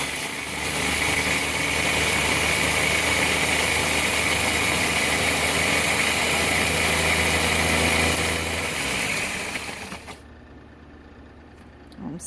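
A Ninja blender chopping dried rosemary, a loud continuous motor whir with rattling herb pieces for about ten seconds before it winds down and stops.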